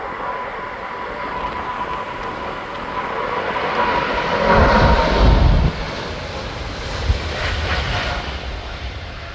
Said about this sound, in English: United 777 going to San Francisco.